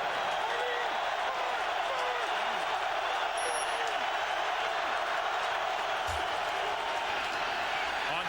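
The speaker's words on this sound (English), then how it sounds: "the crowd's into it. It's really noisy out here." Steady roar of a packed NFL stadium crowd at Philadelphia during a 2003 Washington Redskins at Philadelphia Eagles game, a continuous dense wash of noise with faint talk and a brief whistle-like tone partway through.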